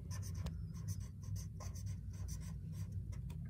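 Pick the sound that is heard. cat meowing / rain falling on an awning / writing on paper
writing on paper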